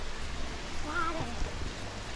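Toketee Falls, a forest waterfall in Oregon, gives a steady broadband rush of falling water, moderately distant and continuous, with faint voices nearby.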